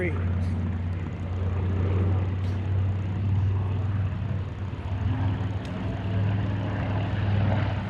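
Propeller drone of a Grumman TBM Avenger flying at an airshow, a steady loud low hum sustained throughout with faint talk underneath.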